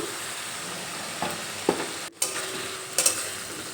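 Spiced potato masala for chana dal stirred in a pan after water goes in, a low bubbling sizzle with a few sharp spoon clicks and scrapes against the pot, nearby and without talk.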